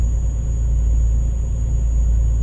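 Kenworth W900L truck engine in Euro Truck Simulator 2, a low, steady rumbling drone at moderate volume with no other sounds over it.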